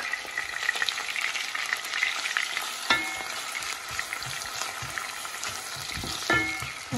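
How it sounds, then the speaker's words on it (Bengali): Onions sizzling and frying in hot oil in a home kitchen, a steady close crackle with occasional stirring scrapes and a few sharper clicks. "গরম হয়ে গেছে, আমি পেঁয়াজ দিলাম দেখতে পারা"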